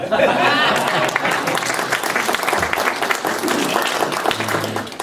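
Applause from an audience at a training session for newly elected officials, steady and dense throughout as an executive director is introduced, with a voice talking over it.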